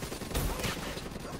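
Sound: gunfire in the video game Black Ops 3

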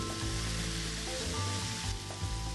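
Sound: vegetables being stir-fried in teriyaki honey sauce

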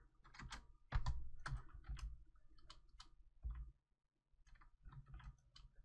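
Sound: typing text on a computer keyboard

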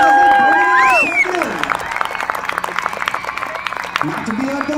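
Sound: crowd cheering and applauding at paratrooper landing

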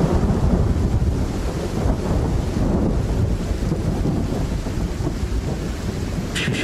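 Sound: thunder in audio story sound effect

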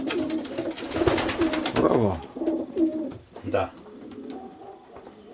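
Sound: racing pigeons cooing in a breeder's loft

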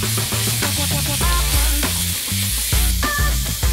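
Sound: ground beef frying in pan with spices and garlic paste

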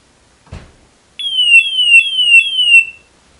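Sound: gas detector high level alarm

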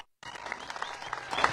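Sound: applause for Ramón Cervantes Gómez

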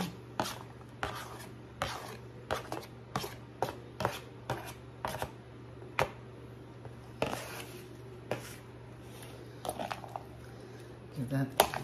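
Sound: knife chopping half a small onion

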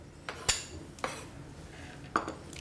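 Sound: butter put into small cooking pot

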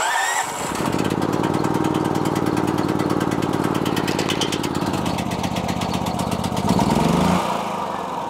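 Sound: Generac XT8000E generator starting and running

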